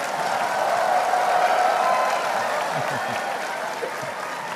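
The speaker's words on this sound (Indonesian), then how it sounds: "Tepuk tangan untuk Pak Anies." An audience at an event of city leaders, held for the speaker Anies Baswedan, gives sustained applause, a thick, even wash of clapping that holds steady throughout.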